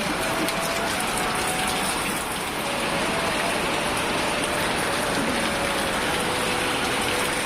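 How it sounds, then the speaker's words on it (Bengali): Heavy rain falls on a rural village, a loud, unbroken rushing hiss close by with a faint steady tone threading through and no one speaking. "যে পরিমাণ বৃষ্টি হয়তাছে"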